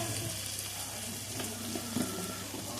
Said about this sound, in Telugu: ఆనియన్ లైట్గా ఫ్రై అవ్వాలి. బ్రౌనిష్గా ఫ్రై అవ్వాలి.